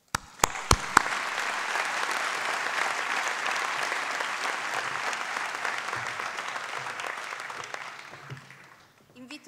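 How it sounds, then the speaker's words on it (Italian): An audience claps for students at a Student Day awards ceremony held by a Legnano foundation: a few sharp opening claps swell into sustained, dense applause that fades out near the end. "un applauso a voi"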